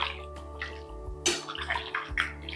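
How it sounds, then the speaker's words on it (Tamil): Water poured into chicken curry masala in a pressure cooker, splashing and gurgling in bursts with brief pauses, close and moderately loud over a steady low hum. "குழம்புக்கு தேவையான அளவுக்கு தண்ணியை இந்த மசாலா ஒட்டி இருக்கு இல்லையா"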